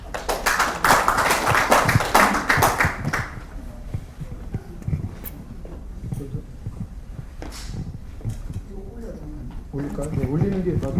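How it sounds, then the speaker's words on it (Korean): Audience applause at the opening ceremony of an academic society's summer conference, a dense burst of clapping in the first few seconds that fades, followed by quieter room noise and scattered taps with talk. "박수 부탁드리겠습니다."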